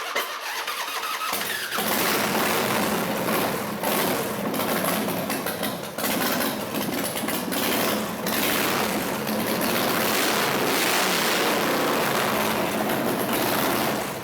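A custom-built motorcycle engine cranks and catches, then runs with a loud, rough, uneven idle and repeated revving throughout, close and alone without talk.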